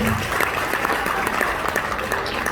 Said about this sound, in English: just wanted to hear you clap